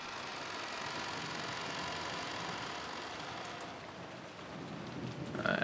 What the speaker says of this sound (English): the downpour was quite terrific